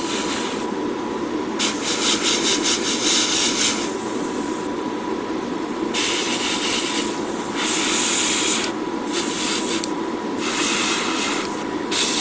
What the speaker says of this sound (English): because I want to spray paint that